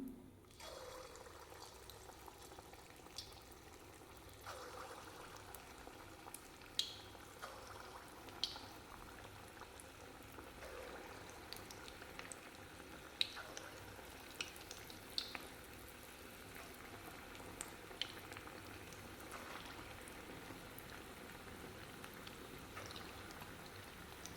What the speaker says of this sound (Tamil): எண்ணெய் சூடாயிடுச்சுங்க போண்டாவை போட்டுக்கலாம்